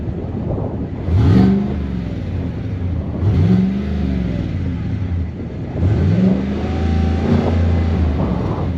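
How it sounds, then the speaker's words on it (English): A 2025 Chevrolet Tahoe RST with a quad-exit Borla exhaust revs in three strong pulses, each rising and falling, loud and close, over a steady engine rumble with no talk. "It breathes out a little bit better thanks to this quad exit Borla exhaust that I am absolutely gonna have to let you listen to."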